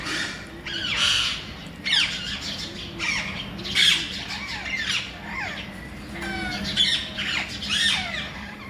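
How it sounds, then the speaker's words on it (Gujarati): A flock of about eight parrots perched on a metal roof sheet at a house squawks with harsh, shrill calls that overlap and repeat steadily, fairly close by and without talk. "આજ તો ઘણા બધા પોપટ આવી ગયા છે"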